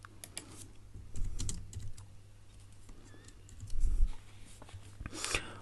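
Keys clatter on a computer keyboard in quiet, close bursts of typing with short pauses between, over a low steady hum.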